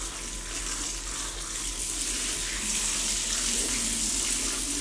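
Tap water runs steadily into a sink as fish is washed for a fish hotpot in a home kitchen, a continuous broadband splash at moderate level with no talking.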